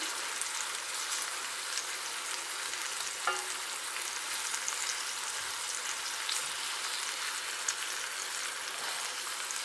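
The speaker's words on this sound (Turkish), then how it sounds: "Domatesleri şöyle ters çeviriyorum arkadaşlar." Tomatoes frying in a pan, a soft, even hiss of sizzling oil with a brief knock as they are flipped, close and fairly quiet.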